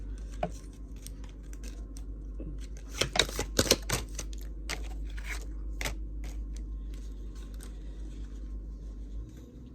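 Kipper cards pulled from a deck during a reading, crisp card snaps and shuffling clicks, clustered in a quick burst near the middle over a quiet low hum.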